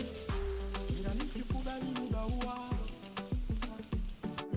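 Small homemade mini pizzas with olives and cheese frying in vegetable oil in a pan, giving a steady sizzle broken by a regular series of clinks and scrapes from a utensil against the pan.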